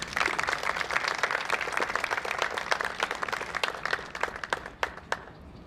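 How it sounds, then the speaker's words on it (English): Applause from a crowd at a high school football banquet, dense clapping at first that thins into scattered individual claps toward the end. "if we give a little round of applause for them"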